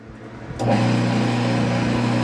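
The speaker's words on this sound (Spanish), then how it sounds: "Vamos a encender la bomba." A small electric water pump fitted with a replacement turbine switches on after a brief quiet moment, then runs with a steady, loud, close motor hum and whine.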